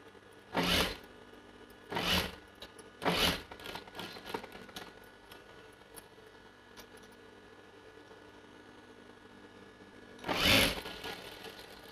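Sewing machine stitching a V-neck blouse back, four short loud bursts of running stitches spaced a second or so apart, a quiet pause, then one more burst near the end.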